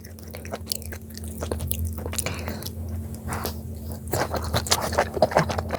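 Close, wet chewing and biting of spicy mara octopus with noodles and seafood, steady squishy mastication with small crunches and smacks throughout, no talking.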